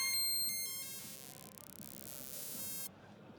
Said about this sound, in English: the blue noise now is a high-pass filter